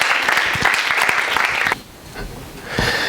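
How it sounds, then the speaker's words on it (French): Church congregation applauding and cheering in acclamation during a worship service, loud dense clapping that cuts off abruptly midway, followed by quieter scattered sounds and a renewed swell of applause. "Acclamons le Seigneur."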